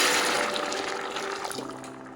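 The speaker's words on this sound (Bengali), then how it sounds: "এর মধ্যে আমি অ্যাড করছি পানি," Water poured into a pot of rice being fried on the stove makes a brief, close rushing splash that settles into a softer bubbling hiss.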